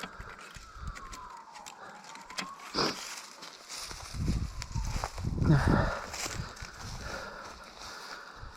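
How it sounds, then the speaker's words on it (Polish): A police siren wails faintly in the distance, its tone sliding up and down, with close rustling and movement noises over it. "słychać, że policja jedzie?"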